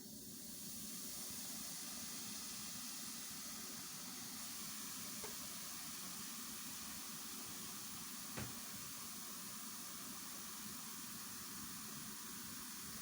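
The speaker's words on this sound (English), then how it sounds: "And once it stops fizzing, you're going to stir it quickly together." A liquid mixture poured into a dry green-cleaning mixture fizzes with a faint, steady hiss that runs unbroken for several seconds, broken only by a couple of tiny clicks.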